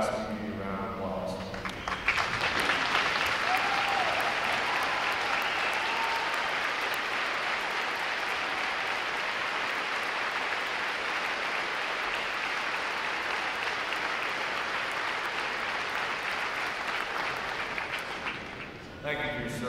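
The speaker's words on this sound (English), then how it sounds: "For all our veterans, please rise and give you a round of applause." Sustained applause from a large audience honoring veterans at a U.S. Navy recruit training graduation, a dense steady wash of clapping lasting most of the stretch before tapering off at the end.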